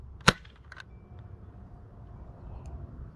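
A Dart Zone Pro MK-2.1 foam dart blaster loaded with Bamboo 2.0 darts fires once, a single sharp snap near the start, followed by a brief rattle and then quiet ambient noise outdoors.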